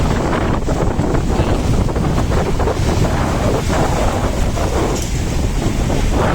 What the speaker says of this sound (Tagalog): Pag habagat dito sa Dinahican, malaki talagang alon.